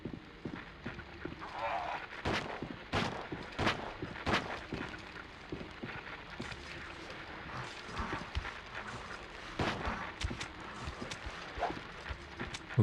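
Gunshots in Silent Hill ring out as sharp, spaced single cracks over ambient game noise while someone talks intermittently.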